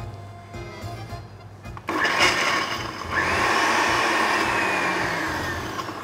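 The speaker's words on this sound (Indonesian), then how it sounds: "kita blender sama coconut oil" A kitchen blender starts up and grinds coriander, candlenut, kencur, grilled shrimp paste and coconut oil for Balinese cooking. After a quiet start, the motor kicks in with a loud, steady whirring roar that shifts slightly as the paste churns.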